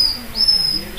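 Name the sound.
Palaw'an tribal whistle imitating bird calls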